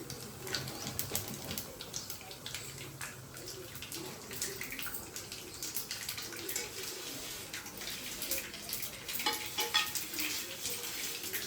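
Garlic, dried red chillies and curry leaves fry in hot oil for a tempering, a steady crackling sizzle with occasional stirring scrapes, fairly close and unbroken throughout.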